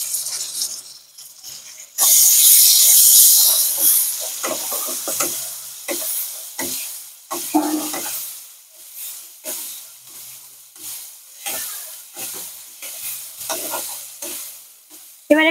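Onion, ginger and garlic paste hits a hot pan with a loud sudden sizzle, then settles into steady frying hiss broken by repeated stirring scrapes against the pan.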